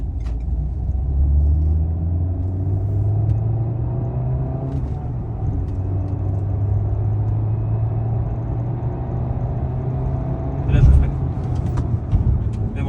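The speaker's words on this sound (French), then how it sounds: "j'ai une petite ligne droite. Je vais m'en servir pour pouvoir accélérer un petit peu. Et derrière, je vais freiner un peu plus fort." A Renault Scenic on a road test drive produces a low, steady engine rumble that swells and eases, with a brief louder burst near the end as it slows.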